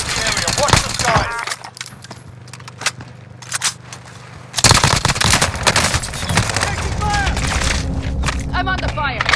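Rapid bursts of gunfire in Call of Duty Warzone, Rebirth trios mode, crackle in clustered volleys, with a louder dense stretch midway, over steady game ambience.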